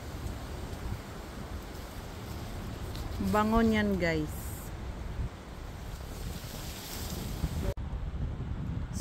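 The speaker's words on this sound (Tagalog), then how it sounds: "Mahangin lang." Wind blowing outdoors during an afternoon walk, a steady rushing roar across the whole stretch, with a person speaking briefly partway through.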